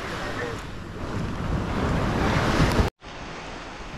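Sea waves breaking steadily near a river mouth at Port Barton, Palawan, a loud continuous wash of surf with wind buffeting the microphone, cutting out abruptly near the end before resuming.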